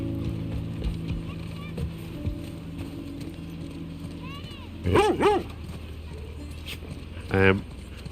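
A dog in the video game The Last of Us Part II gives a couple of brief whining yips and barks near the end, with voices talking earlier against quiet background ambience.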